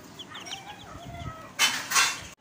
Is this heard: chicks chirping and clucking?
yes